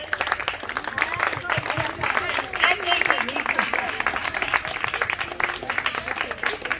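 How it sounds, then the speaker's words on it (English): Applause from the audience at a Juhu Pinkathon Women's Day celebration, a steady patter of clapping mixed with crowd chatter and a voice speaking over it. "So a big applause for all these girls."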